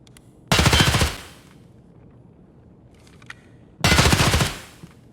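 Two short, loud bursts of rapid gunfire from the video game Escape from Tarkov, separated by a few seconds of near silence with faint clicks of gun jam animations between them.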